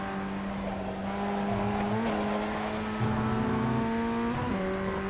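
A Formula Ford 1600 race car in the iRacing simulator at Oulton Park runs its engine at high revs, shifting and changing pitch through a chicane, with brief tyre scrub, steady and close throughout.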